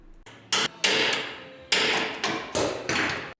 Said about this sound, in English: I used this 3/4 inch chisel to break it free.